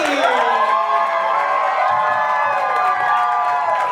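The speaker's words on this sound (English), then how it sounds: "Everybody clap for Shristi." Studio audience at a dating game show clapping and cheering for a contestant, with loud whoops and shouts from a packed crowd that stay steady throughout.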